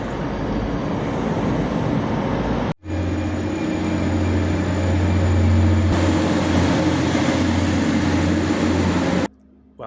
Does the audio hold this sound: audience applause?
no